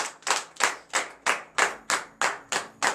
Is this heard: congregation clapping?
yes